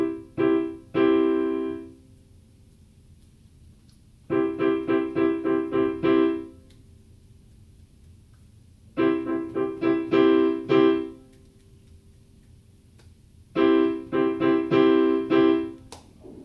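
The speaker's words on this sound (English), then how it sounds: "And now I'm going to play some rhythms on the piano" Short rhythmic patterns played on a piano, repeated single notes in quick groups of varying lengths, each phrase followed by a pause of several seconds, clear and close with no voices.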